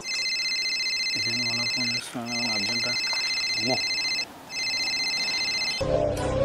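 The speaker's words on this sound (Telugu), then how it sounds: "ఫోన్ రింగ్ అయితుంటే అట్లా కట్ చేస్తున్నావేంది" A phone rings with repeated electronic trills, broken by short gaps, while a voice hums or sings briefly underneath.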